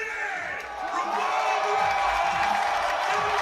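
A crowd cheers and shouts steadily at the 2024 IPF World Classic Powerlifting Championships, a loud, sustained roar of an arena audience behind a lifter.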